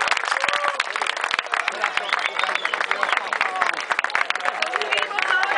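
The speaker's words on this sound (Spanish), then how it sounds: "A ver, un aplauso," Scattered clapping from a crowd at an open-water swimming marathon award ceremony in Ezeiza, mixed with murmuring voices and background chatter, uneven and fairly close.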